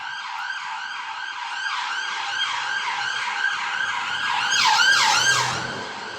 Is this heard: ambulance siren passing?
yes